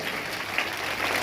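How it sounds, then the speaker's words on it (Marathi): An audience claps during a Swami Shukdas Mauli birth anniversary celebration, a dense, even burst of applause heard close and loud throughout. "जोरदार टाळ्या वाजवायला"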